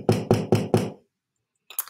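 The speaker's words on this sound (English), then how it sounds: "He knocked on the door." Four quick, evenly spaced knocks on a door, close and loud, followed by a pause and a couple of fainter knocks, with no talking.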